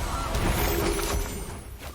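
Goose honk sound effect from the Goosey Goose card in the MTG Arena digital card game, a single loud honking cry lasting over a second against a dense, steady game background.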